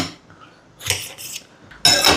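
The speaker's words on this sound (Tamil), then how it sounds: "தக்காளியும் கட் பண்ணிடுவோம்." A knife cuts tomato for a salad, making a few close, sharp clicks and taps against a cutting surface, the last one louder, with quiet gaps between them.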